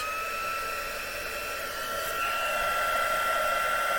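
A heat tool blows a steady, close whirring hiss while melting embossing powder on a craft board, slightly louder toward the end, with no talking.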